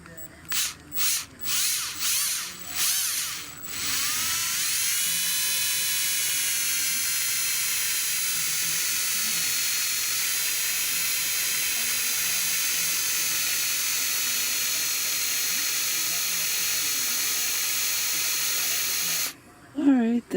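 A cordless drill drives a screw into a wine cork. A few short trigger pulses come first, then a long, steady, high-pitched whine at constant speed, which stops abruptly near the end.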